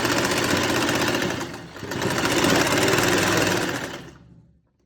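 A sewing machine stitches gum lace onto a dupatta with a steady, continuous mechanical whir, loud and close, dipping briefly midway before running on and stopping abruptly near the end.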